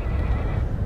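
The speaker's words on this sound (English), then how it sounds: "Aggro's the best horse ever." Agro, the horse in Shadow of the Colossus on PS4, lets out a single loud, close whinny with a hint of hooves, short and alone with no talking.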